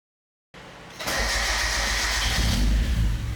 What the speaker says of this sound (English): That old starter definitely wasn't for this car because that sounded completely different.